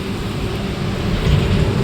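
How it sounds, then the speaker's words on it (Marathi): Steady, soft hiss of light rain falling continuously, with a low rumbling undertone throughout and no voices. "आणि हलका हलका पाऊस सुरू झालाय"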